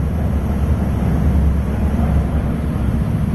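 A Pratt & Whitney R2800 radial engine idles low and steady, a continuous deep rumbling drone with no talk over it.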